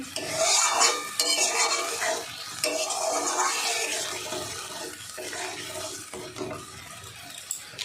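Milk is stirred into a paneer curry in a pot, heard as a bubbling, sloshing sizzle with scraping stirs. It is loudest at the start and eases off over several seconds. No voices.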